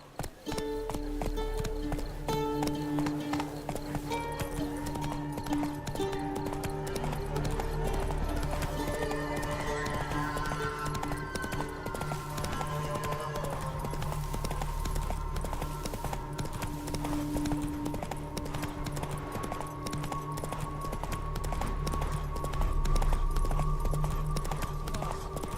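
Roach, the horse in the PC game The Witcher 3, clip-clops along in a steady hoof rhythm with an occasional whinny, set over continuous game music and ambient sound, with brief voices in the scene.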